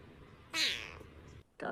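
A pet cat gives a clear, close meow lasting about a second with a falling pitch, followed after a brief pause by the start of another sound.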